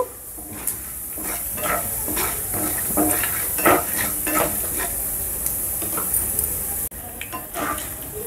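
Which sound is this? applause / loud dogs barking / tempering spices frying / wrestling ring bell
tempering spices frying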